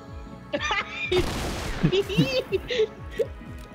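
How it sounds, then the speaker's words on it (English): A dragon breath shotgun in a multiplayer shooter lets off a loud, harsh blast followed by a few sharper bangs, with people talking over and around the shots. "Who's who's using the dragon breath shotgun right now?"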